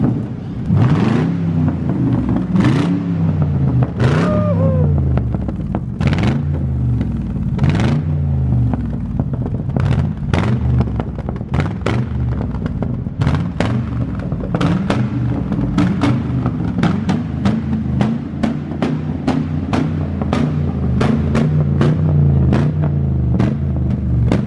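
Chevrolet Camaro fitted with two CG motorcycle exhausts revving hard again and again, loud and close, with sharp throttle blips and pops over a continuous deep engine rumble.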